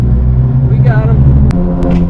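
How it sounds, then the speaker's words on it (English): A Ford Mustang's engine rumbles loud and close, deep and steady, with a couple of sharp pops that could be backfires, while voices talk over it. "He said flames shoot out when it backfires like that."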